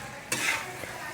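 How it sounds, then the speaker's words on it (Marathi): Bottle gourd tossed gently with ghee in a pan gives a sudden stirring swish and soft sizzle that sets in partway through, followed by a quieter scrape near the end. "एक वेळेस मस्त आता हलक्या हाताने मिक्स करून घेऊ."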